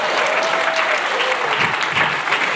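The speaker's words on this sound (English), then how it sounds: "how about a round of applause for this guy" Dense, sustained applause from a keynote audience at an ecommerce agency summit in Austin, a loud continuous wash of many hands clapping with a faint voice briefly audible beneath it.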